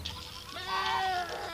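A baby goat bleats once, a wavering mid-pitched cry rising in the second half over faint background noise, heard alone without talk.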